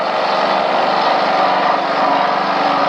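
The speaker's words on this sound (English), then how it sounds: "This is called a whacker." A whacker compactor pounding down dirt on a church construction site, a loud, steady, close small-engine drone with a fast rattling thump that holds unbroken throughout.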